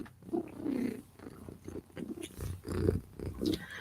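A person imitates a cat's purr with low, rumbling bursts in a few uneven pulses, close and fairly quiet.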